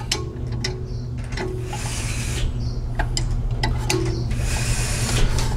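A Volkswagen's brake caliper bolt being tightened during a brake pad replacement, with a steady run of close ratchet clicks and metallic rubbing over a low workshop hum.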